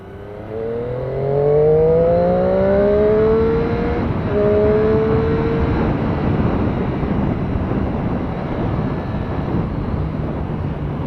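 A Triumph Street Triple R or 675R motorcycle pulls hard on a test ride, its engine note climbing in rising sweeps as it accelerates, loud and close from the rider's position, with constant wind rush behind it.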